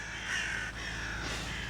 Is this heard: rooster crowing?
no